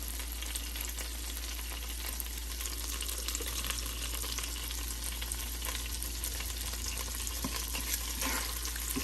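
Butter sizzles steadily in a hot pan while cooking cherry chicken rice, a continuous close frying hiss with no talk.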